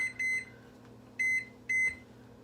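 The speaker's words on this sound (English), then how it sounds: "Set my timer." A kitchen timer beeps three times in short bursts, clear electronic tones over a low steady background hum in the kitchen.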